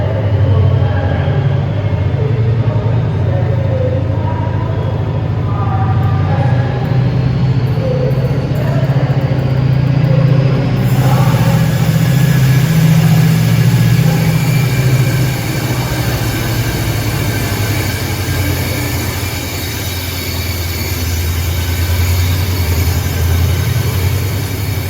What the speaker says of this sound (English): That locomotive does provide a pretty incredible noise when it leaves though